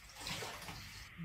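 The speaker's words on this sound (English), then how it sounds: "What sounds like someone splashing water in the bath amidst the darkness can be heard." Brief, soft splashing and sloshing of water in a bathtub in darkness, fairly close and isolated, lasting about a second.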